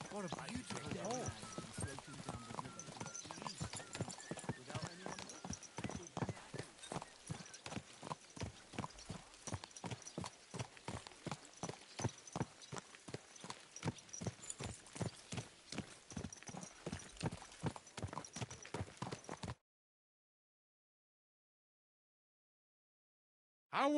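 In the medieval game Kingdom Come Deliverance, a horse's hooves clip-clop in a steady, close, even rhythm for about twenty seconds, then stop abruptly into silence.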